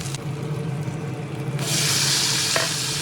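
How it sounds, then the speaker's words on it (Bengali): Potato pieces fry in hot mustard oil with ginger garlic paste over medium flame, giving a steady sizzle that swells louder and brighter partway through as they are stirred, with a brief scrape near the end. "আদা রসুনের পেস্ট ভাজা তেলের সঙ্গে আলুর টুকরোগুলো প্রায় 3 থেকে 4 মিনিট ভালোভাবে নেড়ে চেড়ে মিডিয়াম ফ্লেমে ভেজে নিয়ে"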